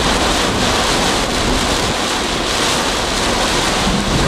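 Strong wind and heavy rain roar steadily during a drive in severe weather, a dense, constant wash of gusting air and pounding water with no pauses.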